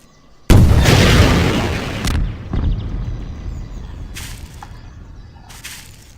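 Rocket launcher shots in Garry's Mod video game: one loud, sudden boom with a long rumbling tail, followed by two fainter later bursts, alone with no talk.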